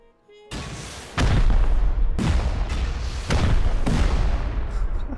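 Rocket explosions in the survival game Rust: a few heavy, booming blasts land about a second apart, each with a deep rumble that carries into the next, over continuous low combat noise.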